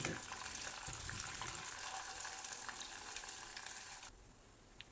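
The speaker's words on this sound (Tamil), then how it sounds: "அந்த உளுந்தம்பருப்பு எண்ணெயில் நல்லா வறுபடட்டுங்க." Urad dal fries in sesame oil in a clay pot, giving a steady broad sizzle with faint clinks, which cuts off abruptly near the end.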